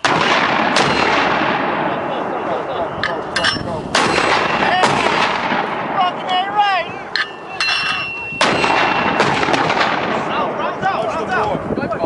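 Marine weapons company weapons fire on a range: repeated loud gunshot and artillery-like blasts in bursts, with shouted commands and voices between and over the shots.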